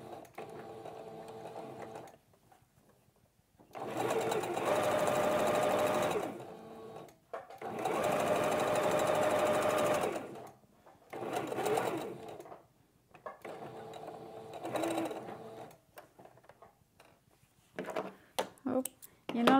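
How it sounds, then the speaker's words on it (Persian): Sewing machine stitching two inner fabric layers of an N95-style mask, running in several separate bursts of a few seconds each, close and fairly loud, with short pauses and faint handling noises between runs. "دو پارچه داخلی رم به این شکل میدوزیم."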